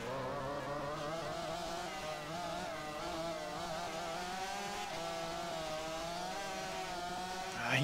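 Racing motorcycles in the MotoGP 15 video game roar together in a steady, loud engine drone with shifting pitch as computer-controlled riders attack from behind after a long straight, a sharp rise at the very end.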